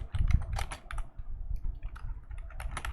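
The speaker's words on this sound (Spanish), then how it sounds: "Suena el teclado gamer." Rapid clacking keystrokes on a mechanical gaming keyboard, close and fairly loud, arriving in uneven bursts and runs with no talking over them.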